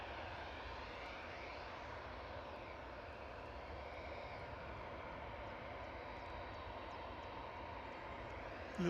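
Distant engines of a KLM airliner taxiing at Manchester Airport droning steadily at low volume, a constant broadband rumble with a propeller-like hum and no voices.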